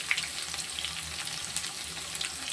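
Small onions fry in oil for a fish curry, a soft, constant sizzle with light crackles and pops close by, quiet overall and with no talking.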